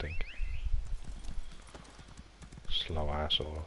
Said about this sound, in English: Let's get my horse out, I think.